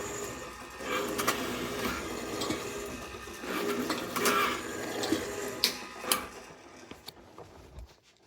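A Lil' Orbits mini donut machine runs with its hopper on, giving a steady mechanical whir with periodic clicks and clunks that stops near the end.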